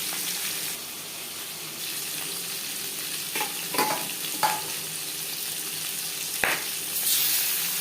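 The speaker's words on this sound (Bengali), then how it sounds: "একবারে এই মাছ ভেজে নেব, যেহেতু আমার কড়াইটা বড়।" Seven fish pieces fry together in a large oil-filled pan, giving a steady soft sizzle with a few light clinks and stirring scrapes scattered through it.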